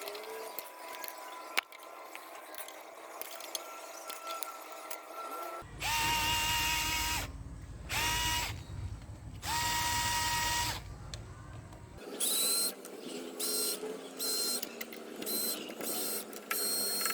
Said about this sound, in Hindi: सारे 8 नंबर बोल्ट्स को आपको लूज करके बाहर निकाल लेना है